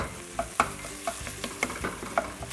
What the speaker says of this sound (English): You definitely want the sausage to get kind of brown and crisped up a bit